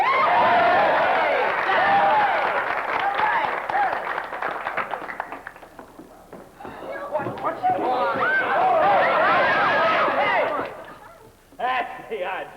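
An audience at a staged cattle auction in a musical theater performance cheers and shouts loudly, swelling, dipping briefly, then rising again, with voices and some clapping mixed through the noise.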